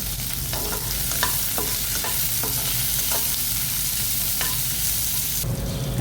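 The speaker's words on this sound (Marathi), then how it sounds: "ते ह्या तेलात परतून घेणार आहे. कांदा लवकर परतावा त्यासाठी मी थोडं मीठ घालते." Roughly chopped onions sautéing in oil with a little salt for biryani, a loud steady sizzle close by, with a spoon stirring and scraping the pan at intervals and no voices.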